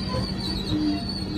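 A train pulls into Chittoor station, a steady rumbling rolling noise with faint brief squeal tones over it, heard from on board.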